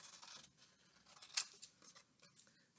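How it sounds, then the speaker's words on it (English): Scissors snip through paper while cutting out a tulip shape for a spring craft, giving a few quiet, close crisp cuts with one sharper snip midway and another near the end. "the first thing I'm going to do is cut out my tulip"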